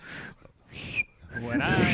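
A person tries to whistle, producing breathy, airy tones in a few short bursts with gaps between them. Voices and laughter rise toward the end.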